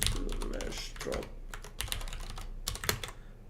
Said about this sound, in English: my keyboard is not cooperating with me